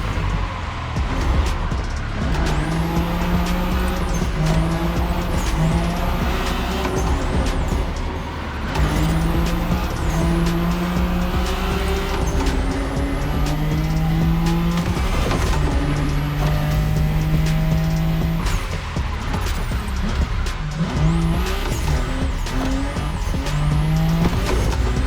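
A Nissan Skyline GTR R32 race car drifts through corners in The Crew Motorfest, with a loud engine revving up and down and repeated long tire squeals and skids as it shifts. The racket is continuous and close, with no talk.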